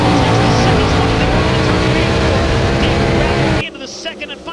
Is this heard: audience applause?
no